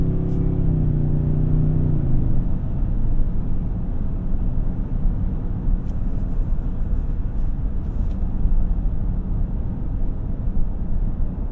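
A 2023 Toyota Sequoia Capstone with the iForce MAX hybrid powertrain cruising at highway speed, giving a steady, loud broadband road and engine roar throughout with a brief low hum fading early on.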